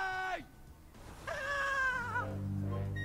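A cat meows in the video game Ghost Master, two drawn-out, slightly falling cries separated by a short pause, fairly close and clear over faint game background sounds.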